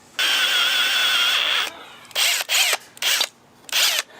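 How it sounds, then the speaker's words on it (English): A power drill whines close by in one long burst, then in four shorter bursts with brief pauses between them, while someone works on a lightbar upgrade. "I hate drilling sometimes."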